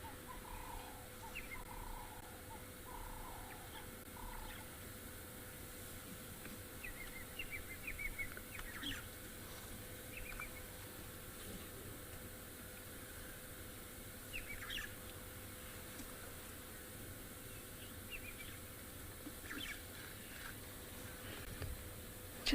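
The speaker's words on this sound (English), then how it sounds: "the birds are so close to us and calling" Birds call and chirp close by in the open bush on a morning safari, faint scattered calls over a low steady background hum, with no talking.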